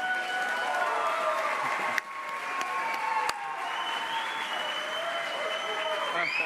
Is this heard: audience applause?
yes